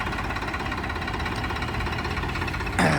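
A Swaraj tractor's engine runs steadily at idle with a low, continuous rumble and knocking pulse, close by, ending in a sudden louder burst as if revved or clattering.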